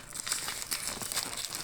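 Plastic wrapping on an Arteza art set crinkles and crackles close up in quick irregular bursts, with no talking.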